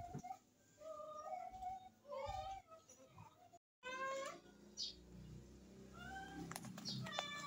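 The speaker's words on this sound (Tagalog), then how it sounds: "Speaking of pusa, ayan si Irang" A cat meows repeatedly nearby, a run of plaintive, rising and falling cries in a home kitchen, with a short cutout midway and more meows continuing after it.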